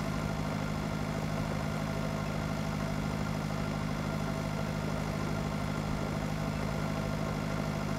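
A tractor engine idles in the farming game Pure Farming 2018, a steady, loud, unbroken mechanical drone with constant low hum and no variation throughout.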